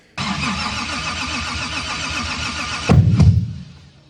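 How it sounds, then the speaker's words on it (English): A Toyota Supra engine cranks and runs with a steady, loud churning, then near the end a sharp, heavy backfire bang bursts out before the sound trails off. "they don't backfire like this"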